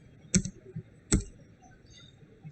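Typing on a computer keyboard gives two sharp, close key clicks about a second apart with faint softer taps between, alone without talk.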